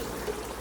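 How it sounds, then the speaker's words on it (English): Aquarium tank being refilled with water, a faint, steady gushing fill with a low continuous rush that stays even and muted throughout. "we're going to start filling the tank back up."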